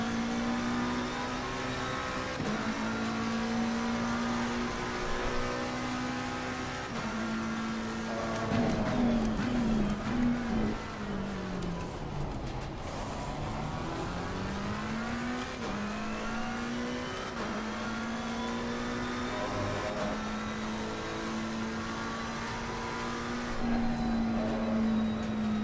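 Racing car engine in a video game on a flying lap: a steady high-pitched whine holds near and loud, with the pitch climbing and dropping through gear shifts, dipping low into a slow corner around the middle and then building back up to speed.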